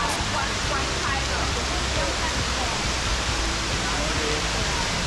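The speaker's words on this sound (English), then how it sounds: "Waterfall." Waterfall near Sanmin Bat Cave: a steady, loud, broadband rush of falling water fills the clip evenly from start to finish, with no pauses.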